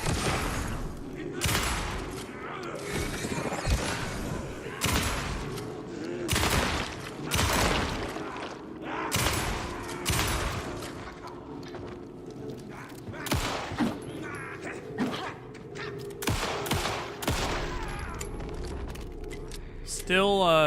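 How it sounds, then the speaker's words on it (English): Shotgun blasts in the video game Alan Wake II, a string of loud separate booms spaced a second or two apart amid reload clicks and clatter, with someone talking in between. "Still takes a lot of shotgun shells to kill these guys."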